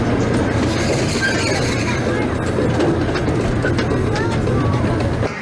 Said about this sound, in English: Train comes to a complete stop.